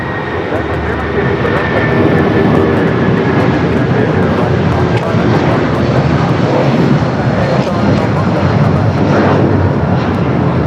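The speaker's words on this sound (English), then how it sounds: "Will be a 25 left takeoff." A heavy jet airliner on its takeoff roll from runway 25 Left at Los Angeles International Airport gives a steady, loud, broadband engine roar with a faint whine, sustained throughout as a radio voice speaks over it.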